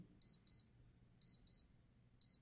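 A Casio W59 digital watch alarm beeps in tight high-pitched bursts, two quick double-beep groups repeating at a steady rhythm, close and clear against a quiet room.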